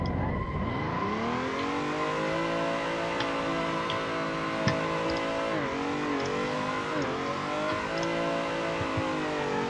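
A BMW E30 drifting in Assetto Corsa revs hard and continuously, its engine note climbing and dipping as it slides, with faint ticking over the steady drone and no talk.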